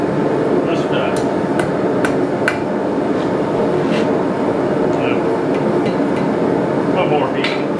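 A blacksmith's hammer taps hot steel while forging a letter opener sword, sharp metallic strikes landing irregularly over a loud, continuous roar of forge and shop noise.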